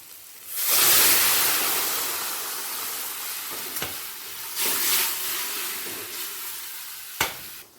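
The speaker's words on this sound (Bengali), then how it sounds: "সবজিটা মশলার সাথে একটু মিশিয়ে নিচ্ছে" Boiled vegetables stirred into spice paste frying in oil for a Bengali rui fish curry, with a broad loud sizzle and scraping stirs that swell and ease, plus a few sharp utensil knocks.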